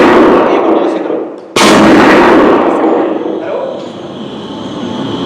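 Gunshots at a shooting range at the Heritage Army Museum in Shimla, a sharp loud crack cutting in midway over a background of noisy rumble, with a long ringing decay afterward.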